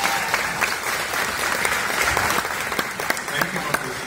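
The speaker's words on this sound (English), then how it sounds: "I would invite them out here so we can give them an applause" An audience at a Nollywood film festival Q&A applauds guests, many hands clapping in a steady, moderately distant patter with some voices mixed in.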